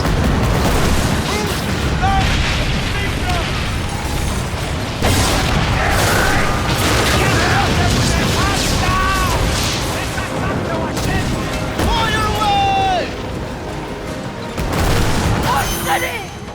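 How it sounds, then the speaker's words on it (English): Naval mortars and cannons in the Skull and Bones pirate ship game fire in loud rolling volleys and booming explosions, with overlapping voices talking throughout. "Dude, those mortars are sick, dude."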